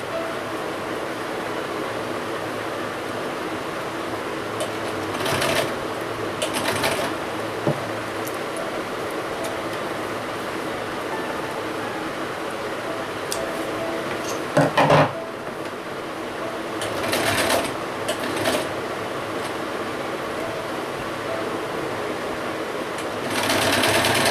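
A sewing machine stitches a small half-pant suit from the reverse side in a long, steady whirring run, broken by a few brief louder bursts.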